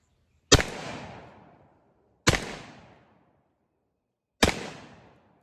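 Three sharp, loud blasts from a Remington Model 11-48 semi-automatic shotgun, spaced about two seconds apart, each trailing off in a short echoing tail, with no talk.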